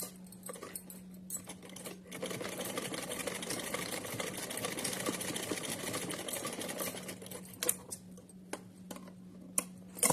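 A sewing machine stitches cotton cloth for a small deity outfit, a steady close rapid mechanical chatter with a constant motor hum for most of the stretch, then pausing near the end with a few separate clicks and knocks.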